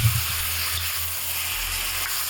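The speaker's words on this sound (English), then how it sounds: "then we're going to add our beautiful parboiled chopped up pork belly. And we're going to start sauteing here." Parboiled chopped pork belly sautés over medium-high heat in coconut oil and sugar for Vietnamese braised pork, a steady close sizzle and hiss with a brief clatter at the start.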